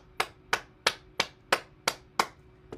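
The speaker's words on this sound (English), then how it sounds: "Let's clap." Single person clapping hands during an exercise class, seven crisp, evenly spaced claps close to the listener, each with a short decay, no voices.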